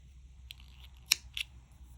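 Scissors trimming crochet thread on a lace top, a few quiet, crisp snips close by against a faint low hum, with one sharper cut standing out.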